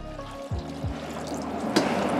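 Water poured into a cooking pot, a running liquid splash that builds and brightens toward the end, close and moderately quiet.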